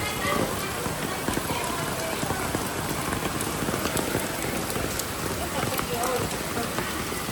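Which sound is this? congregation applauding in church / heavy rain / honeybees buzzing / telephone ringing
heavy rain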